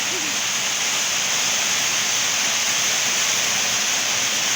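Heavy rain pours onto a house, a dense, steady roar of water with a hissy edge that stays constant and loud throughout, with a faint brief voice at the start.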